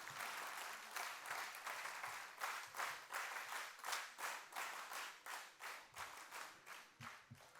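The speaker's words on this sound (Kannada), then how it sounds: "ಹೌದು ಅಂತಾದರೆ ಒಂದು ಒಳ್ಳೆ ಚಪ್ಪಾಳೆ ಕೊಡಿ" At a Kolaata performance during Guruvandana 2024, an audience claps together in a steady rhythmic beat, about twenty sharp unison claps at an even pace, faint and slightly distant.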